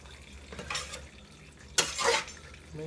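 Shrimp egg roll filling stirred in a bowl: two short bursts of close scraping and mixing, separated by a quiet pause.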